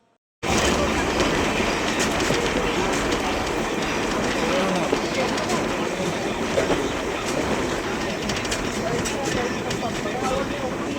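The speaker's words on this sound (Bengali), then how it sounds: "আর ট্রেন কিন্তু ছেড়েও দিয়েছে" A passenger train runs steadily, heard from inside a carriage with a continuous rumble and rhythmic clatter of wheels on track, loud and unbroken, while people talk in the background.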